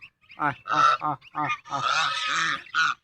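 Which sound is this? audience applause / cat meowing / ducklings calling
ducklings calling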